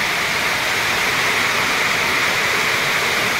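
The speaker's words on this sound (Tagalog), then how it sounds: "Ito yung pasok ng tubig." Water rushes steadily into a roofed backyard chicken enclosure, a dense, even hiss like a small waterfall holding constant and fairly loud throughout, with no talking.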